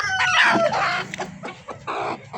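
Spotted red hens at a parent-stock poultry farm cluck loudly and close, with squawks and calls running through the whole short stretch.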